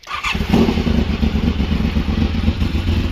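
A 1986 Honda VFR 750 motorcycle fires up with a quick starter catch and then settles into a loud, close, steady idle with a pulsing low rumble.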